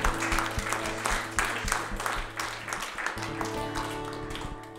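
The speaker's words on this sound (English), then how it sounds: "Give Him a hand clap." A church congregation gives a round of hand clapping during a Sunday worship service, the claps fairly close and energetic, mixed with sustained musical tones and a few voices underneath.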